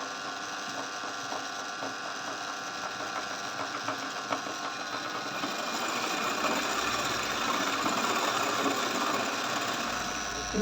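An embroidery sewing machine running steadily with a continuous, fast mechanical whirr and stitching rattle at close range that gets slightly louder partway through, with no talking.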